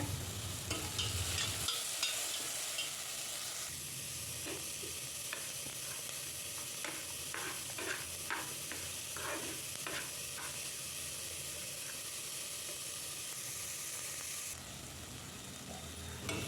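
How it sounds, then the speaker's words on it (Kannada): Chopped tomato fries in hot oil for a tempering in a pan, giving a steady close sizzle over the whole stretch, with scraping stirring strokes and small clicks in the middle. No one speaks. "ಹಾಗೆ ಒಂದು ಟೊಮೆಟೊ ಹಾಕ್ಕೊಳ್ತಾ ಇದ್ದೀನಿ ಒಗ್ಗರಣೆಗೆ"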